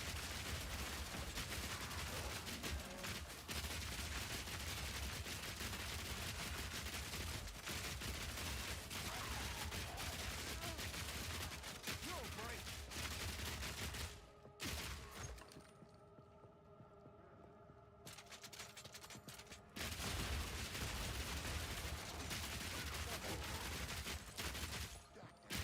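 Crossbow projectiles fire in rapid, sustained volleys in Path of Exile 2, an armor-shredding Warbringer build clearing a map, loud and dense throughout with a brief quieter gap midway.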